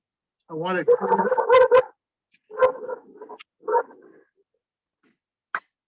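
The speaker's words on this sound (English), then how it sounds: "Who's got the dog?" A dog barks and yips during a community meeting, a few close bursts with gaps between them and a short sharp sound at the end.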